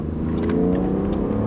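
An old SUV's 6-cylinder engine accelerating on the road, a steady, loud, close-up engine drone rising under throttle and holding without pause.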